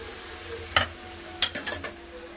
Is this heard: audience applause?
no